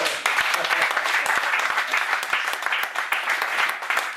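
A church congregation applauds after a call to acclaim the Lord, with steady, dense clapping sustained throughout at even loudness, close and lively.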